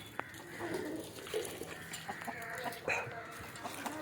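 Native country chickens cluck softly in short, scattered bursts, with faint background noise around them and no talking.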